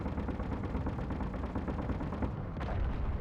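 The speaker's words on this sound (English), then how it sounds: "Okay, turrets are doing their job." Defensive turrets in a video game fire in dense, rapid, continuous bursts, a loud rattling barrage with one sharper crack near the end.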